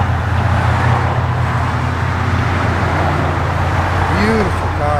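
A 1963 Oldsmobile Dynamic 88 running, a steady low rumbling idle with a constant droning tone, close and loud throughout.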